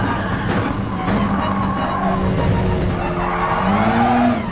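A race car in a racing video game brakes hard, tires squealing and skidding with a rising, sustained whine over loud engine roar, close and continuous.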